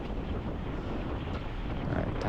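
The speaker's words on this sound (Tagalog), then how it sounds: "grabe ka kusog ng hangin" Strong headwind roars across the microphone during a group bike ride, a continuous loud buffeting rush with no break.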